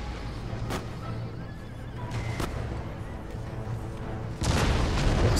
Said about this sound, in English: That's an excellent cannon shot.